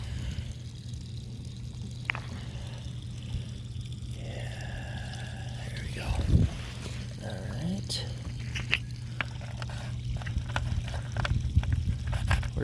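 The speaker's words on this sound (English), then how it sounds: "pouring bleach down to disinfect." Bleach trickles and splashes down a water well being disinfected after a stuck 4-inch submersible pump was pulled, a thin intermittent pour with drips over a steady low hum, with a voice talking now and then.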